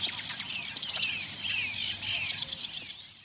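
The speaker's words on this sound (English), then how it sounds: "And we have red wings, blackbirds singing." Busy birdsong from red-winged blackbirds fills the air, several birds trilling and chirping in overlapping bursts at moderate distance, with a low steady hum beneath.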